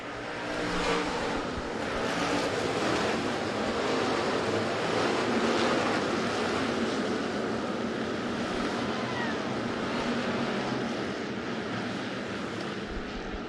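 Hobby stock race cars roar around a dirt speedway at night in a continuous, loud, blended engine din that stays steady from start to finish with no distinct pauses.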